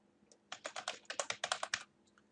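Quick burst of about a dozen keystrokes on a computer keyboard while a secret password is entered, crisp clicks close by in a quiet room.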